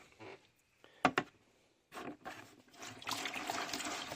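Water runs and splashes intermittently in a workshop sink being cleaned, with faint trickles, a couple of sharp clatters, then a louder, steadier gush of running water near the end.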